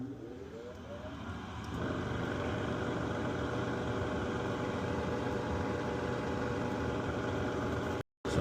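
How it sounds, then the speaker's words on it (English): A Luxaire furnace blower motor spins up with a rising whine over the first couple of seconds, then settles into a steady, close mechanical drone that cuts out briefly near the end. "that's the revving sound that you're hearing"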